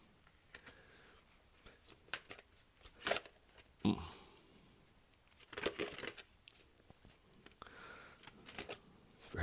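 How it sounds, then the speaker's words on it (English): Tarot cards being shuffled during a reading, heard as uneven bursts of papery riffling and slapping that come and go over several seconds, fairly close and with no talking. "Very strange shuffles in this reading."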